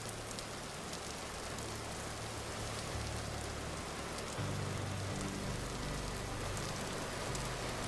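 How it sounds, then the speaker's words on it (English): Rain falls in the Vintage Story survival game, a dense, even hiss of raindrops on surfaces that fills the scene at a constant, moderately loud level with no talk. "Ooh, it's raining."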